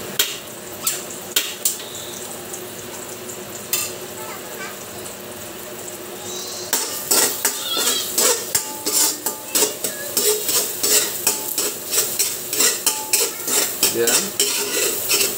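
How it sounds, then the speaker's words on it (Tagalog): Garlic and red onion sauté in a pan, starting with sparse utensil taps, then a dense run of rhythmic metal scraping and clinking over a steady sizzle, loud and close, with a little background talk. "Gisa natin yung bawang. Ang sibuyas."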